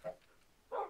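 Dogs in the video game Minecraft give two short barks, one at the start and a louder one near the end, with a quiet gap between them.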